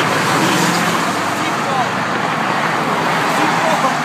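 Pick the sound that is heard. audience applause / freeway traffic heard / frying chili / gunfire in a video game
freeway traffic heard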